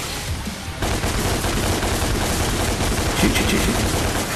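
Ebony and Ivory pistols in DMC: Devil May Cry firing in a dense, continuous barrage of loud gunshots, with rapid overlapping reports and game effects over steady background noise.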